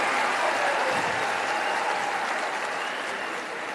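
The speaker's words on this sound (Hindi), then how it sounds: "जनाब प्रशांत किशोर जी का जोरदार तालियों के साथ स्वागत करें।" Audience applause welcoming a speaker at a public gathering in Patna, Bihar: dense, steady clapping from a large crowd, loud and close, easing slightly toward the end.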